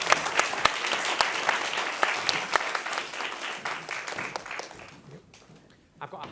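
An audience at a publishing panel event claps at the close, a mix of distinct sharp claps and steady applause that gradually thins and fades toward the end, with a faint voice underneath.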